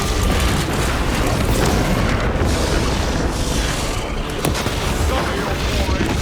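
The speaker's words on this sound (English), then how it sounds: "Prepping melter bomb." A melter bomb going off in Warhammer 40K: Space Marine 2, a loud, sustained roar of blast and rumble that fills the whole stretch, with heavy low-end and a few sharper cracks layered in near the end.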